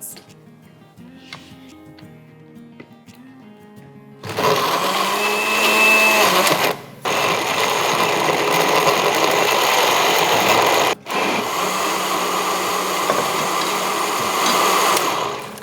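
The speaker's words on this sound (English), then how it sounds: "you just go ahead with the blending" An electric blender whirs loudly through ingredients and water for an okra and fish stew, starting abruptly after a quiet opening and running steadily with two brief cut-outs.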